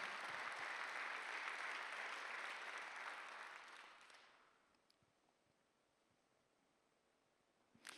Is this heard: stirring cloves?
no